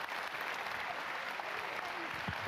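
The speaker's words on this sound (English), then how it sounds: "Let's give him a big round of applause." A crowd applauds the winner of a Gran Turismo 7 race: dense, steady clapping fills the whole stretch at an even level, with no voices standing out.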